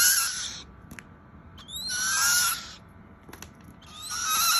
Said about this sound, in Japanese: 赤ちゃんフクロウです。